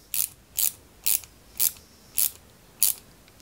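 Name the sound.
screwing parts of a 1/8 Ferrari 330 P4 model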